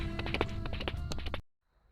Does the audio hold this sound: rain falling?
no